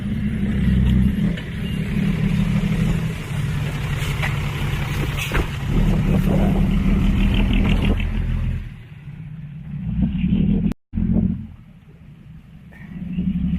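A heavy lorry engine rumbles loudly nearby on a road in Thailand, idling and revving, then drops off with a brief sharp break before the low drone resumes.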